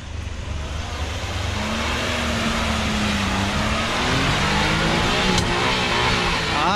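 A Suzuki Jimny revs hard through flooded mud, its engine droning steadily and rising in pitch while water and mud churn loudly around the wheels, with no talk over it.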